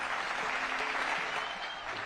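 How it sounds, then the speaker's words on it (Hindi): Audience applause at the Ganga Expressway foundation stone ceremony, a full steady burst of many people clapping that continues evenly with slight swells, loud and close. "जोरदार तालियों के साथ स्वागत करें।"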